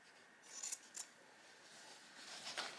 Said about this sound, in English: I'm just going to put my little cardboard piece, just going to cut out a rough shape